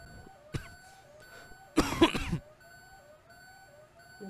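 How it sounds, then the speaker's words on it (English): A person coughs in a quiet control room during a simulated reactor accident, one short cough followed by a louder, harsher fit of about half a second, over a steady electronic hum and faint tonal alarm chimes. "You still got that nasty cough or what?"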